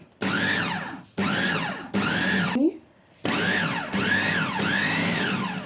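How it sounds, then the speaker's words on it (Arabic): A food chopper grinds soybeans with spices, onion and garlic for a burger patty, running in five loud whirring pulses of about a second each, separated by short silences. "هنرجع تاني نضرب بالكبة ضربة كمان، نطحنها شوية"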